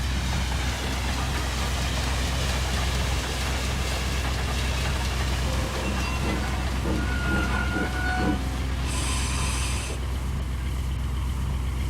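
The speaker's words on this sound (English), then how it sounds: "The Limited rushed by with a growl and a roar" A steady, dense rumbling roar of a passing train, a diesel-hauled express rushing by, holding loud and continuous throughout with faint tonal squeals and a brief high whistle-like tone near the end.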